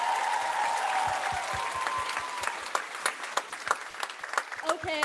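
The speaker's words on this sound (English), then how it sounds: "Can we have another round of applause for all the dancers out there?" Audience applause for dancers at a college cultural showcase, a dense steady clapping from a crowd that thins into scattered individual claps near the end, with faint voices mixed in.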